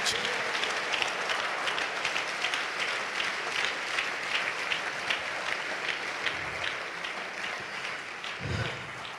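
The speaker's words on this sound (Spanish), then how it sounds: "Dele un aplauso al Señor Jesús." Church congregation applauding steadily and loudly for about nine seconds during a sermon, a dense, continuous wash of many hands clapping with a brief low voice near the end.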